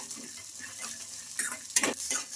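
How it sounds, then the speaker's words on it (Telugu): Peanuts frying in oil in a pan with green chillies, a soft sizzle under a few sharp scrapes and clinks of a spoon stirring against the pan, quiet and close. "ఈ పల్లీలు కూడా ఇంకా దీంట్లోనే ఫ్రై చేసుకోవాలి బాగా"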